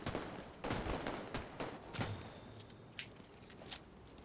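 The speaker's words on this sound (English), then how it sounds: "There was a dude shooting us." Rapid bursts of automatic gunfire crackle from a Division 2 firefight, several volleys stacked over a few seconds with sharp transients and scattered lighter pops, loud and close throughout.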